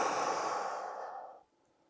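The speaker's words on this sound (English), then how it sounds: "I take 5 big deep breaths" A deep, slow exhale during a seated stretch with knees drawn to the chest, a long breathy rush close to the mic that fades out, then quiet.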